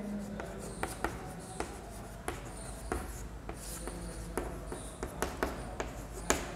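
A pen moves across paper during a Class 10 maths lesson with soft, continuous scratching and light taps of the strokes, close and quiet, and no one speaks.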